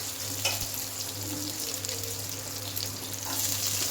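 Nigella seeds frying in a spoonful of oil for a pointed gourd and ridge gourd peel mash, giving a steady, close hiss and crackle that runs unbroken for the whole stretch with no voices.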